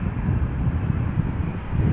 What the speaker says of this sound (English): Air Canada, Dreamliner.